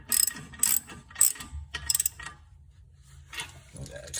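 Ratchet clicking in short bursts as bolts are snugged down during a front brake pad and rotor job on a 2013 Chevy Cruze, close and moderately loud, with quieter low rumble between strokes.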